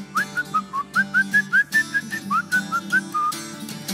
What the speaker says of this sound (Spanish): Y ahora chifla, chifla, chifla delante del Señor.